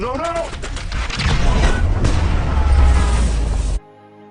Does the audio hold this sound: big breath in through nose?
no